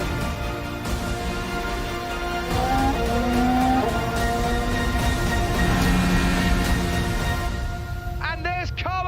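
Formula 1 cars race through the last lap, with Sainz's Renault just ahead of Alonso's McLaren. Engines drone and whine steadily under continuous excited commentary, and sharp rising tones sound near the end.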